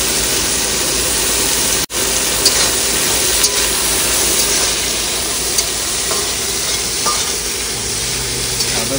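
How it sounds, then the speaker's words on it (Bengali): Shrimp fry in a pan with a little salt, a continuous loud sizzle with stirring scrapes throughout and a brief sharp drop near the start. "আর এই সেই চিংড়ি মাছগুলো এখন ভেজে নেবো।"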